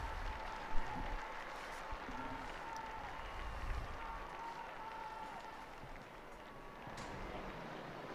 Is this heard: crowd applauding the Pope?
yes